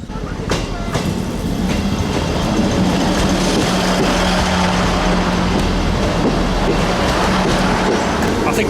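A train rolls through a level crossing in a British seaside town, a loud, steady rumble with faint clickety-clack filling the whole stretch as it passes close by.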